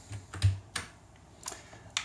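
Arrow keys on a computer keyboard are pressed several times in a slow, irregular rhythm, the close, quiet clicks standing out alone against a faint background hum.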